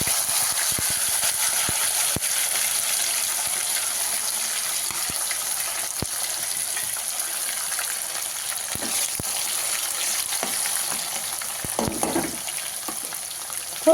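Mustard seeds, cumin, curry leaves, garlic and chopped tomatoes sizzle in hot oil during tempering. A steady close hiss runs throughout, with scattered pops and a brief stirring scrape near the end.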